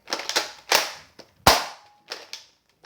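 A Nerf foam-dart pistol firing several sharp, close pops in an irregular sequence, each a crisp snap with a brief tail, with quiet gaps between shots.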